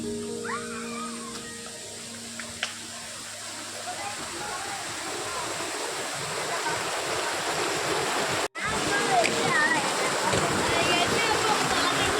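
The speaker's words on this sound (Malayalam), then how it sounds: "ഇനി നമ്മൾ വെള്ളച്ചാട്ടം കാണാൻ പോവാണ്" A steady rushing roar of falling water fills the scene, with faint bird calls early on and a brief dropout near the end.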